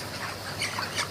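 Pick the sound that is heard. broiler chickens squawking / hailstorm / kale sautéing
broiler chickens squawking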